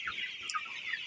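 Sonali chickens on a poultry farm give a few faint, brief clucks, quiet and slightly distant over a soft background hum.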